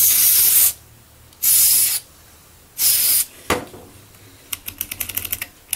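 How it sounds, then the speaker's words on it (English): Contact cleaner sprays into the switches of an Atari 2600 console in three loud, hissing bursts close by, then comes a quick run of sharp clicks as the switches are flicked back and forth. "I'm just going to spray contact cleaner down inside the"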